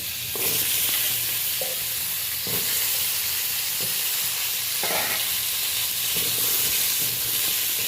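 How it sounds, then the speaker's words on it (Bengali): Sweet potatoes fry in a spoonful of oil in a wok, a constant close sizzle and hiss broken by periodic scraping stirs and clatters of the spatula, with no talking. "এই তেলেই আমি মিষ্টি আলুগুলো ভালো করে ভেজে নেব"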